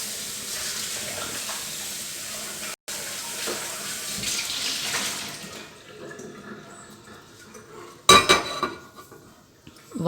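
A kitchen tap runs while a bowl is pre-washed, a steady splashing stream that fades after several seconds. A short, bright clink of dishware follows near the end.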